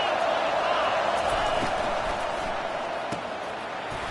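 A football stadium crowd roars steadily on a third down, a dense wall of cheering that swells and holds, with a commentator's voice over it.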